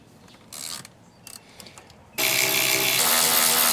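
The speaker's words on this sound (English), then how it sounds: "then we're actually gonna get our electric ratchet, take them fully out" An electric ratchet backs out T50 seat bolts in a BMW F30, with a few short mechanical clicks and brief bursts before a loud, steady whirring run takes over near the mic.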